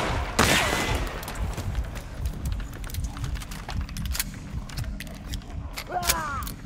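Gunfire from Hunt: Showdown erupts in sharp shots amid continuous game ambience, a loud crack early on followed by scattered distant reports, with people talking over it.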